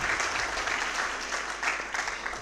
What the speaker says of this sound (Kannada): ಅದಕ್ಕೊಂದು ಜೋರಾದ ಚಪ್ಪಾಳೆ ಬರಲೇಬೇಕು.